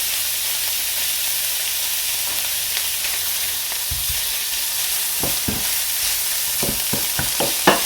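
Ready-cooked tuna for pesto pasta warming in a pan over medium heat, with a steady sizzle and hiss under several close scraping stirs that grow more frequent toward the end.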